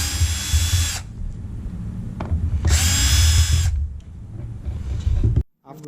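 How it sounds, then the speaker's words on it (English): A power drill whirs in two short bursts while it removes screws from the tail light cover of a 2018 or later Jeep Wrangler JL, with quieter handling noises between and after the bursts. "Now you can see there are 2 screws."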